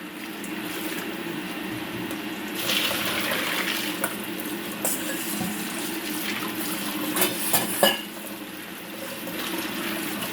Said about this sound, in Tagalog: dito na tayo sa lababo namin kasi maghuhugas tayo ng mga kasangkapan ng ating soup